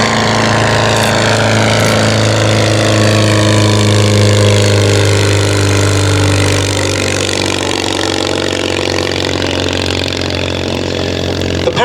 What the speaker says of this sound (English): The power plant is a 37 horsepower Mosler engine.